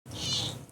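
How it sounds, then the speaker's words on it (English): A house cat gives a single short meow, close and clear, rising and falling within a fraction of a second, with no talking over it. "was my cat meowing."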